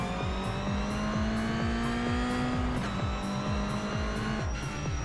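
A Ferrari race car in iRacing accelerates out of the pit lane, loud engine climbing repeatedly through the gears in a rising, sawtooth pattern of revs with brief shift drops.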